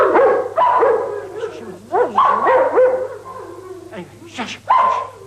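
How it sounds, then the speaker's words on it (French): Dogs bark and yelp in excited bursts, close by, with whiny, pitch-sliding barks coming in uneven clusters. "Biakim et Cobra commencent à aboyer"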